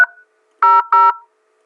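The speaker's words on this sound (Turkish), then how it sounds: "Şimdi 1300 arayalım." Keypad tones on a Cisco IP phone: a brief tone fades at the start, then after a pause two clear, loud dialing beeps sound in quick succession.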